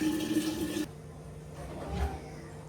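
Water runs into a container for under a second, then stops, leaving a quiet room with a soft low bump afterward.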